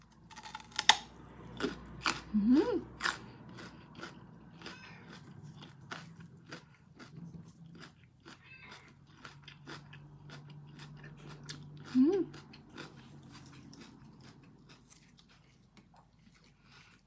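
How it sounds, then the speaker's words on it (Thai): Crisp crunching bites of crunchy papaya, irregular and close, with a few louder snaps over a quiet room. "เหมือนเรากินมะละกอกรอบกรุบกริบกรุบกริบ"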